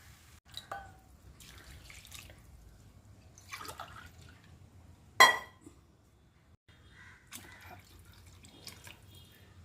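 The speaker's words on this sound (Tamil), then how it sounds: "பாக்கிக்கு சாத தண்ணி ஊற்றிடலாம்." Water trickles and drips into a cooking pot while rice is prepared with coconut milk, a few faint splashes and one sharp clink standing out over quiet kitchen background, with no talking.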